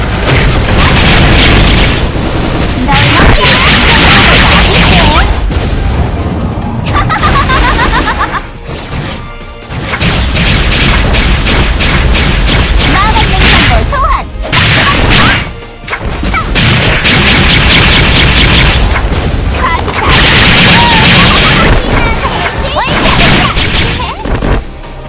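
Magic missile attacks in the game Closers, a loud, dense barrage of booming crashes and whooshing impacts that pounds almost continuously, with a few short dips between bursts.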